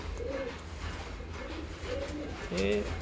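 Several pigeons coo in short rolling phrases near a loft where birds are being untied, with a louder close coo at the end over constant low hum.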